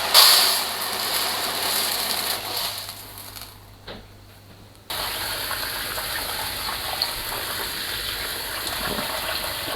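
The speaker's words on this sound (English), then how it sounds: "You want to make sure you're washing your rice really well so that you get off as much starch as you can." Rice being washed for jollof rice, with water gushing steadily from a tap into a bowl at close range, a brief quieter break partway through, then the steady flow again, no voices.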